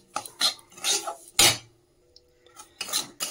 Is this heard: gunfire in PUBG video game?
no